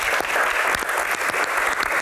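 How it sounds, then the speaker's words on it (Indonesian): Studio audience at a televised Q&A on Hajj applauds in a continuous, dense round of clapping, loud and close throughout. "Tepuk tangan."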